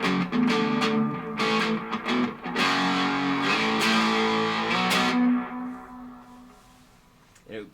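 Electric guitar played through an effects pedal with its mode switch engaged, giving sustained distorted chords with echoing tails that ring out and fade toward the end.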